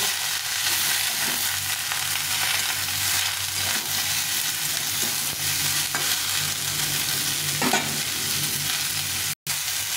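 Vegetables and potatoes frying in a pan for a fish chorchori, a loud continuous hiss of sizzling oil with faint stirring scrapes, close up, without talking.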